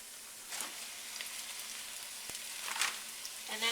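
Pork sausage sizzles quietly in a pan with a soft, continuous crackle and a few brief louder spatters, no talking.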